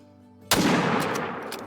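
A single loud .30-06 rifle shot fired at a stag in a hunting video game, a sharp blast followed by a long rolling echo that fades slowly.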